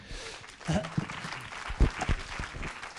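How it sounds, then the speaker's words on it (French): A conference audience at a panel discussion applauds in soft, scattered bursts that swell and fade, heard at a modest distance with voices speaking over the clapping. "on vous applaudit, on vous remercie."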